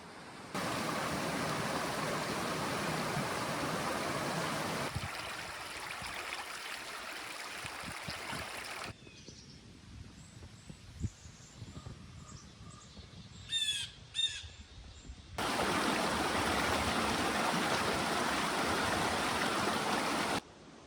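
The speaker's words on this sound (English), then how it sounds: "The Big Branch River, I believe." The Big Branch River flows through Clarendon Gorge in the Vermont wilderness, a loud, steady rush of water that fades out in the middle, where a few crows caw, then returns at full strength.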